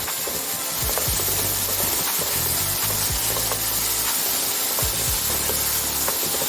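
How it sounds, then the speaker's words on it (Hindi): Spice masala fries in a pan for a gravy-style pumpkin curry, a steady close hiss and sizzle with repeated soft scraping thuds as it is stirred. "दो से 3 मिनट के लिए हम मसाले को भूनेंगे"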